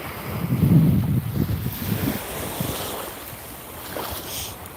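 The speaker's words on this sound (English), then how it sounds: "They can't hear you past these waves." Ocean waves churn and wash against a small craft at sea while wind buffets the microphone, with a louder gust-laden surge early on that settles into steady rushing water.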